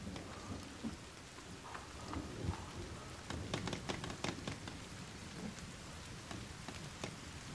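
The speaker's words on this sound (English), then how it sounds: "and it's starting to rain." Steady rain falls in the survival game The Forest, a dense continuous patter with scattered sharper drops and low rumbling beneath, holding at an even moderate level throughout with no voices.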